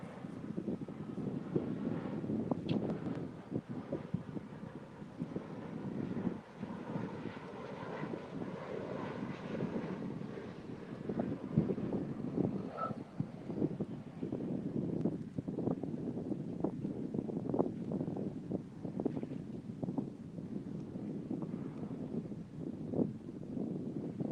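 Wind gusting across an open river channel during midday catfishing, a steady broad rumble with buffeting microphone noise throughout, no talk.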